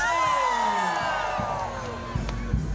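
A large pilgrim crowd at the National Shrine of Our Lady of Salambao shouts and cheers in a sustained, rising then fading roar, with a few sharper whoops cutting through near the end.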